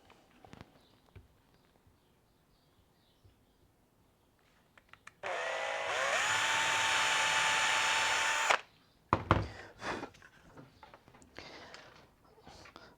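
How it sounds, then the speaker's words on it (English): A power drill whines loudly for about three seconds, then a few short bursts follow amid quiet handling noises. "And then with a drill, we can drill our holes."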